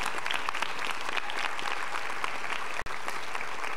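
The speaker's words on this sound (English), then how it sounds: "let's give them a round of applause." A concert audience applauds the teachers at a spring concert, a dense, steady wash of many hands clapping at moderate distance with no talk, cut by a brief dropout near the end.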